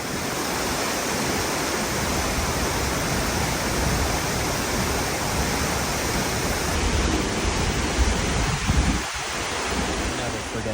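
A rainforest waterfall in Costa Rica roars as a dense, steady broadband rush of falling water, loud and close, with a brief muffled bump near the end.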